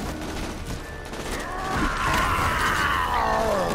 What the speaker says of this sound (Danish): Og det er et shotgun skud, hva?